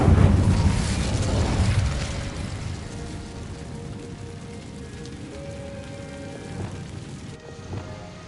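The Incendio fire spell is cast in Hogwarts Legacy, a whooshing burst of flame that flares up at the start, then fades into a crackling, hissing burn that lingers faintly.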